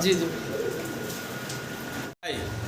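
Fancy pigeons coo low and soft, steady against background noise, with a brief dropout near the end.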